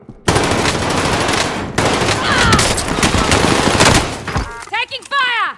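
Rapid automatic gunfire from Call of Duty Modern Warfare (2019) hammers in loud, dense bursts that are broken by brief pauses, with a voice calling out briefly near the end.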